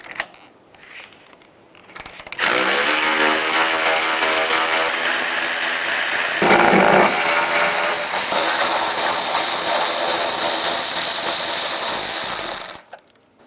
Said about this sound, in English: Take these two screws out up top,